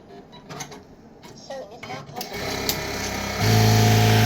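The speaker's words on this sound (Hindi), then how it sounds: "अगर मुझे चाहिए कि ये टांका मुझे क्लोज करना है, ज़्यादा दूर बढ़ लग रहा है, तो मैं इसे कम कर सकता हूँ, छोटा टांका मारेगी मशीन।" A computerized Brother LBH1790SS industrial sewing machine starting up and stitching, a steady mechanical whir that grows louder and settles into a constant hum near the end, with faint handling clicks before it.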